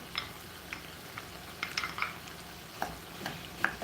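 Tomato puree stirred and frying in a pan, with a quiet sizzle under a run of soft, irregular scrapes and taps from the utensil, close up and with no talking.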